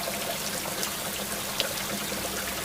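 Clear river water trickles through sand and stones in a forest, a faint, steady, continuous babble with no voices.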